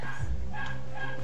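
Dogs bark briefly in the WildStar game zone Deradune, a short yapping burst up close over steady game background sound.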